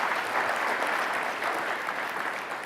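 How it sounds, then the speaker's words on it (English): Conference keynote audience applauding steadily, a dense even wash of clapping that holds for the whole stretch and eases slightly toward the end. "Let's give him another round of applause."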